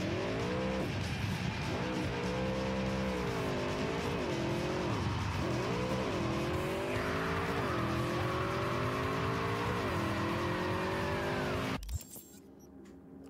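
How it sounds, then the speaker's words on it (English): A motorcycle in Cyberpunk, the video game, revs loudly and steadily with the engine pitch climbing and dropping as it shifts through gears, accompanied by tire squeal, before cutting off abruptly near the end. "Got me a motorcycle."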